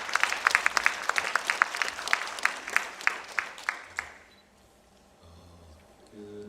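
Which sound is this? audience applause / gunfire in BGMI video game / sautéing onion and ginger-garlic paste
audience applause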